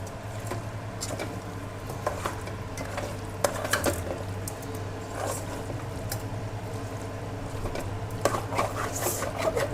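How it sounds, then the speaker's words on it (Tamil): Chicken biryani masala being stirred in a pot, with continuous scraping and clinking of a spoon against metal over a steady low hum, no talking. "நல்லா கலரி விடுவோம்."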